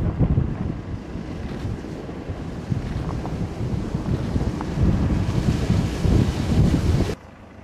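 Blizzard wind roars through a snowstorm in Kırklareli, a loud continuous gusting rush with buffeting against the microphone, then cutting off abruptly at the end.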